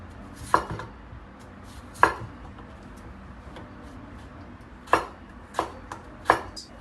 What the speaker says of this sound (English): I'm gonna cut the yellow potato to make the french fries